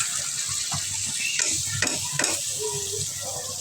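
Spiced liver frying in a pan as chopped tomato goes in, a continuous close sizzle with a few scraping stirs and clinks rising above it.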